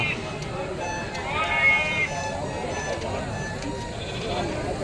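Sheep bleat faintly at the Gouribidanur sheep and goat market, with short wavering calls that are partly masked by crowd chatter and general market noise.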